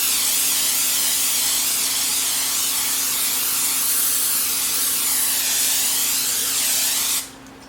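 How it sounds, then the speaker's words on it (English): A steady, close hiss of butter spray from an aerosol can onto bread rolls runs continuously for several seconds, then cuts off abruptly. "Now we are going to actually spray the tops of them with the butter spray"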